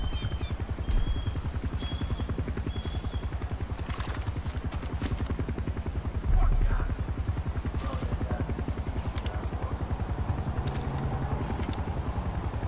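Helicopter circling overhead in the video game Far Cry 5, a steady rapid rotor chop with a low engine drone running continuously throughout, with a couple of brief thuds along the way.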